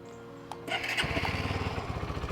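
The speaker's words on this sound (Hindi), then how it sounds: "अब स्टार्ट कर लेते हैं एक्सट्रीम को।" A Hero Xtreme 160R motorcycle engine catches after a brief starter whir and settles into a loud, rapid, steady putter close by.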